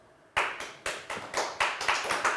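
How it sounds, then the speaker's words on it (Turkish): Sparse clapping from a small group on a quiz show, about eight separate bursts in an uneven, half-hearted rhythm, close and fairly quiet against a silent background. "Üzgün alkış."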